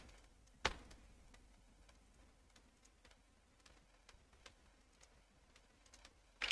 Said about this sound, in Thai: กดบวกนะครับที่คีย์บอร์ด